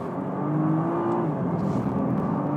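A 2013 Nissan GT-R on road tires at Spa-Francorchamps, engine droning steadily with a rising then falling tone as it pulls through the gears, heard from inside the car with no talk.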